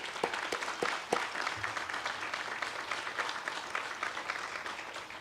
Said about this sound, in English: Please acknowledge each country by a round of applause.